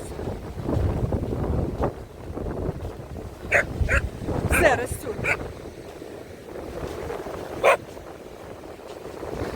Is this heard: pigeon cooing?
no